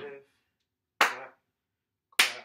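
Two sharp hand claps from step choreography land about a second apart, crisp, close and isolated against silence, with a brief voice just before the first.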